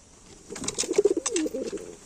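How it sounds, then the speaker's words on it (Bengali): A newly bought pigeon coos close by in one short burst of soft, throaty, rolling notes against a quiet background. "এই যে পায়রাটা কিনে এনেছিলাম, নতুন পায়রা"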